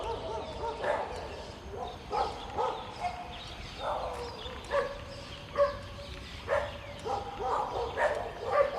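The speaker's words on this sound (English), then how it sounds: "I'm not saying very much because of the doggies, they're so noisy." Several dogs in a Temuan village at Bukit Lanjan, Petaling Jaya, barking repeatedly in irregular bursts at moderate distance, with a few yips mixed in, no talk.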